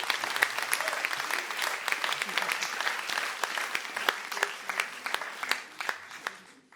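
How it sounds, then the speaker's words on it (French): An audience at a festival grand opening applauds, with sustained clapping and sharp individual claps standing out, gradually thinning and fading toward the end. "On peut l'applaudir encore une fois."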